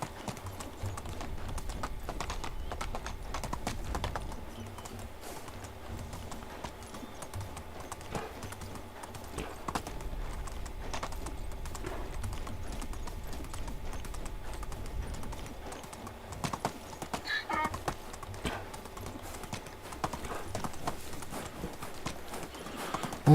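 A donkey's hoofbeats clip-clop steadily along a path in the medieval game Medieval Dynasty. The quiet, even footfalls continue for a long stretch over faint ambient background.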